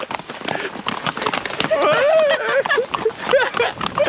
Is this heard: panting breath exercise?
no